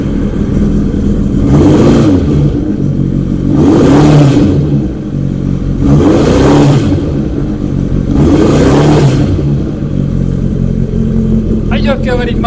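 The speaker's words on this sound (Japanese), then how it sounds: "ではエンジン始動していきます" A Kawasaki Zephyr 750 motorcycle with a Moriwaki exhaust turning over and idling with a steady low rumble, its note swelling and easing in regular surges, with a brief sharp click near the end.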